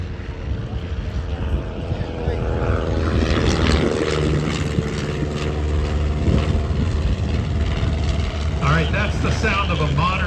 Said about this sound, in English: That's the sound of a modern engine going by.